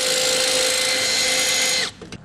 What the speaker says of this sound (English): we're going to drill a hole next to it all the way through